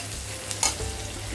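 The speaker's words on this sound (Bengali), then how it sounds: "রসুনটা ভালো করে ব্রাউন করে রসুন আর পেঁয়াজটা ভেজে নেব" A soft, steady sizzle of garlic and onion frying in a pan, with a brief scrape of stirring partway through.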